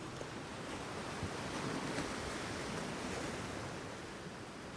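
Sea waves at Monterosso beach in the Cinque Terre, a steady, soft wash of surf with faint wind, fairly distant and continuous, with no voices.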